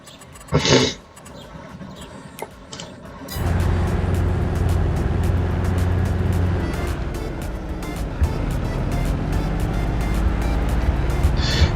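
Tractor or farm vehicle engine in Farming Simulator 22 drives steadily toward a field, a continuous loud drone with a deeper tone starting after a brief quiet opening with a short burst of noise.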